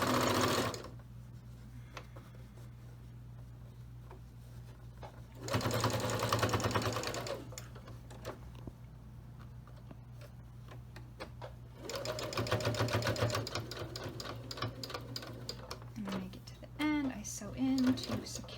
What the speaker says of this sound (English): I sew a couple of stitches, and then I sew to the edge just to secure that elastic